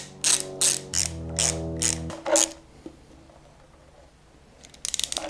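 A ratchet works the bolts off a motorcycle headlight: several bursts of quick, loud clicking close up, then a pause, then a short flurry of clicks at the end.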